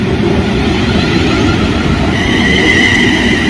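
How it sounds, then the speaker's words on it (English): Train rolling past at a railway station on the Chase Line near Rugeley, a loud close rumble with wheel and rail noise and a faint high squeal partway through. "there goes the other train, 35262 in the other direction"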